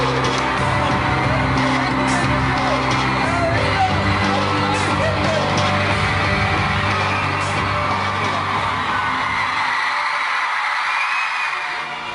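A 10,000-strong concert crowd cheers wildly as the band takes the stage, a dense, loud wall of screams, yells and whoops that holds steady, then thins slightly toward the end.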